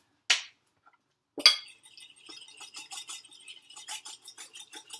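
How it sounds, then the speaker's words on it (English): Worcestershire sauce being whisked into a vinaigrette in a bowl: a quick rhythmic clatter of metal whisk against the dish, after two sharp isolated clinks at the start, close and fairly quiet. "Whisk that in."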